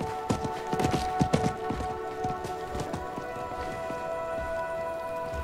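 Horse hooves clip-clop in the Diablo 4 video game, a fast run of sharp hoof strikes that thins into a few scattered clops before fading, over a steady musical and ambient drone.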